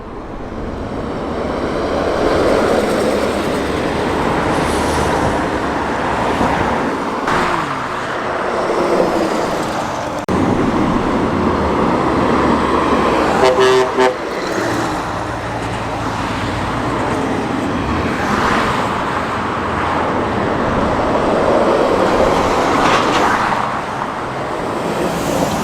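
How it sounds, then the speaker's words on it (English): An old Scania truck passes on a wet road in heavy rain at a classic vehicle run, a steady broad engine and tyre roar with spray hiss lasting throughout, swelling slightly as it goes by, with no voices. "Old Scania coming through."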